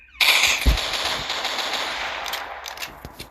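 Video game gunfire rings out as a sudden loud burst of rapid machine-gun shots, followed by a sustained crackling rattle and a few sharp scattered cracks toward the end, with no talking.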